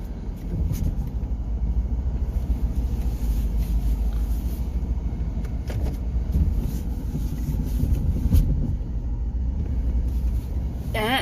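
A 2008 Jeep Grand Cherokee rolls along in 4-low four-wheel drive, heard from inside as a steady low rumble of drivetrain and road noise with occasional knocks and creaks, continuous throughout.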